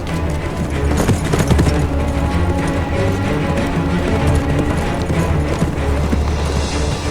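Horses in a historical Ottoman-era drama: hooves clatter and thud continuously under a dense wash of background music and crowd noise, busy and fairly loud throughout.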